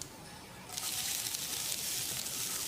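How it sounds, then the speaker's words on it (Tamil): Finely chopped onion with mustard seeds and curry leaves fries in a tablespoon of oil in a pan, a soft steady sizzle that jumps up in hiss partway through and then crackles on evenly, quiet and close with no talking. "வெங்காயத்தை நல்லா பொன்னிறமாக வதக்கிடலாம்."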